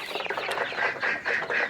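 Tiger breed chickens, about 25 days old, cluck on a poultry farm in a close, steady run of short repeated calls, with no talking.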